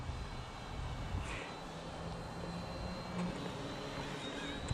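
A small ready-to-fly mini RC helicopter flying in strong wind makes a faint, steady whirring buzz of rotor and motor, mixed with gusty wind noise, with no talk.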